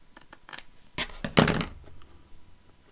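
Scissors cutting the fringed top and bottom edge off a paper page for a handmade tri-fold page, heard as a few close, crisp snips and rustles, the loudest in the middle, with no talking.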